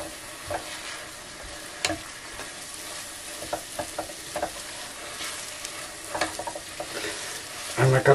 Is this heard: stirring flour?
yes